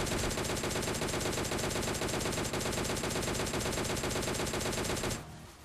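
M4 rifle fire from the PUBG Mobile Lite game rattles in a rapid, sustained automatic stream for about five seconds, dense and steady, then cuts off sharply.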